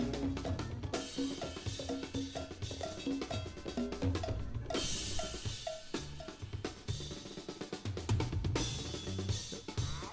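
A bright cowbell clanks in a steady rhythm inside a busy, dense funk groove with bass, drums and layered instruments throughout, on an album.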